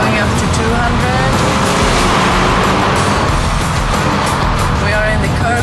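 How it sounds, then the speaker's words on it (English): Volvo XC60 accelerating toward 200 km/h on a test track, a steady loud roar of engine, road and wind noise heard from inside the cabin, continuous throughout with no pauses. "We have 60 kilometers an hour now, 80, 100, we're going up to 200."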